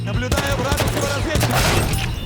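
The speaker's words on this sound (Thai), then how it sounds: "มันเป็นอีกปืนล ูกโม่ที่ยิงได้แรงพอสมควร แต่ยิงได้ช้าแถมมีแอนิเมชันการรีโหลดที่นาน" A revolver fires in a World War I shooter game: several sharp, loud reports ring out close together, and their echoing tails overlap.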